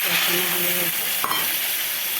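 Spice masala being stir-fried in a pan gives a steady broadband sizzle with scraping stirring strokes, close and fairly loud, with a brief utensil knock near the middle.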